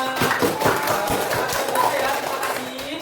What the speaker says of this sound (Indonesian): Kasih tepuk tangan buat semua